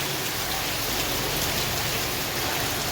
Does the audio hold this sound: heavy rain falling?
yes